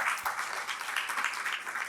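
An audience at a Gujarati literary lecture gives a continuous round of applause to welcome the speaker, steady moderate clapping from many hands, unbroken and without talk.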